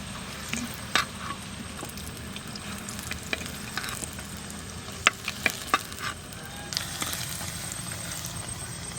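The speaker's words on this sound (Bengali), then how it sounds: "আলু ভাজা করছি, তেল আছে" Potatoes sizzle steadily in hot oil, with scattered sharp clinks and scrapes of stirring in the pan.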